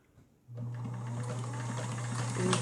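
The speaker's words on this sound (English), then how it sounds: "Your next seam will be to sew the open end that you just pinned with about a 5/8 seam" Half a second of quiet gives way to a vintage sewing machine stitching a seam in a cloth mask, a close, steady mechanical hum and rapid needle clatter that grows slightly louder near the end.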